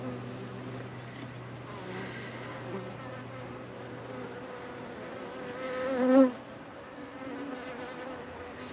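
Honey bees hum steadily at a stump hive where frames of bees are being added, a close, continuous drone that swells briefly as bees pass near.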